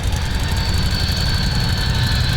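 Simulated single-engine light aircraft idling with the throttle pulled out during a landing approach, a steady low drone with a constant high whine, unchanging and alone without talk.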